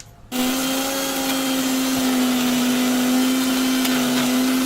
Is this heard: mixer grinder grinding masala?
yes